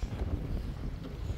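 Strong wind buffets the microphone in a constant low roar on a boat anchored in the ocean, with water sloshing faintly underneath.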